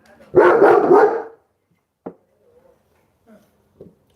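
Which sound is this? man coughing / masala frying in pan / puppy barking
puppy barking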